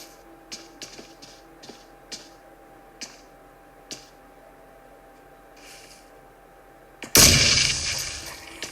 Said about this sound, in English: a grenade has just been thrown towards Jacko